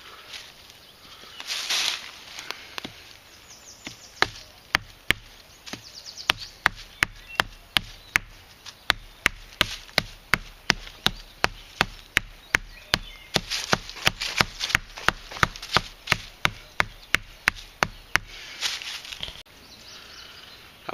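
A hand axe chops wood while a spear is being made, with dozens of sharp, close strikes falling in a steady, fairly even rhythm and short pauses at the start and end.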